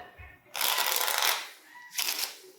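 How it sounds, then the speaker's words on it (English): Playing cards riffled and shuffled twice, a longer crisp burst followed by a shorter one, close and clear with no talk. "They get shuffled around"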